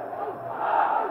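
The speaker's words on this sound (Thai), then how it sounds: "นี่เสียงเชียร์มาดังแล้วครับทางด้านสิงห์พิชิต" A crowd at a Muay Thai fight cheers and roars, a dense swell of voices that rises in loudness over about a second.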